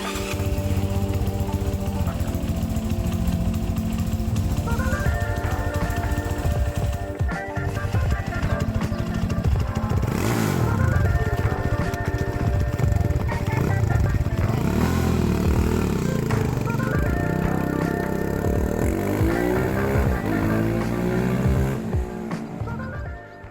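A Grom clone motorcycle with a rebuilt cush drive runs in gear: a steady, close engine drone whose pitch rises and falls with the revs, continuous throughout, with no talk.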